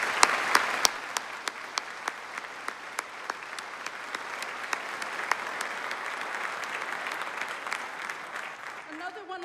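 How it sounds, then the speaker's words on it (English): An audience applauds at a 2022 high school graduation, with steady crowd clapping throughout and sharp individual claps standing out near the start, fading away at the very end. "I think they deserve a very big round of applause"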